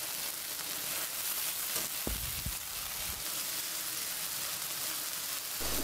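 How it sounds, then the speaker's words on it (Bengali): Spices with red chili powder, turmeric and salt sizzle steadily in a little oil for beef curry, a continuous loud frying hiss with occasional low scraping stirs. "মশলাটা কষিয়ে নেব।"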